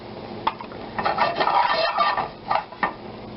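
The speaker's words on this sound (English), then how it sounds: "Swirl your pan a little if you have to." Pan with foaming fat swirled and stirred, soft scraping and clinking of utensil against metal in quick irregular bursts, close and moderately loud, with no talk.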